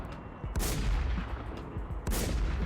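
Gunfire in a shooter video game, two loud booming shots about a second and a half apart, close and heavy with a rumbling tail after each.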